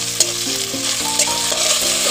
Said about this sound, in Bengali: আদা রসুনটা পেস্টটাও দিয়ে দেবো।